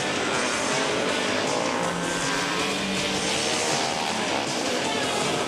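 Motorcycles, including 250s running alongside open-class bikes, race on an ice track at a state championship, a dense, loud, steady engine drone with a commentator talking over it.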